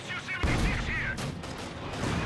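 A 76 mm tank gun fires in a video game, a loud boom with rumbling decay in a busy battle mix under faint background voices.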